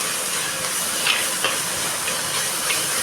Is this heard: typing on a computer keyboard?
no